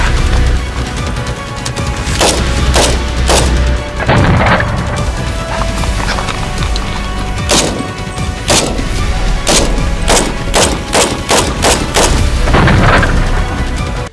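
Gunfire from a rifle with a grenade launcher and night sight, a series of loud, sharp reports that start spaced apart and come faster toward the end, close over a rumbling background.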